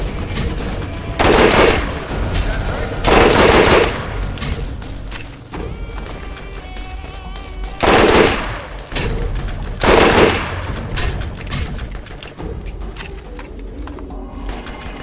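Full-auto sniper rifle firing in the video game Borderlands: loud bursts of rapid gunfire in several clusters, with a mechanical clatter and game ambience between volleys and no talking.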